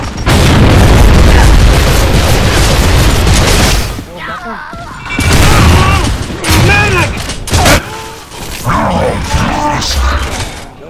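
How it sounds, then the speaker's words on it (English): A grenade goes off in Gears of War 3 as a loud, sustained boom with rumbling debris in the opening seconds, followed by gunfire bursts and overlapping voices talking over the battle. "Grenade!"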